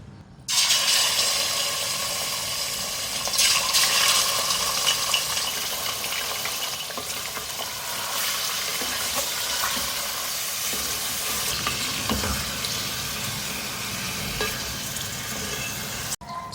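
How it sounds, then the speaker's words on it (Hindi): Boneless chicken cubes fry in hot oil over a high flame, giving a loud, constant sizzle with occasional stirring scrapes and clatter and no talking. "चिकन को मैंने तेज़ आंच पे फ्राई कर लिया है।"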